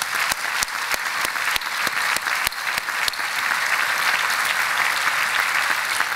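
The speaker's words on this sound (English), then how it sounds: "So please join me in a round of applause for all of our distinguished guests." Round of applause for distinguished guests at a presidential inauguration ceremony, broad sustained clapping from a large audience with a few sharp individual claps standing out early, steady and loud throughout.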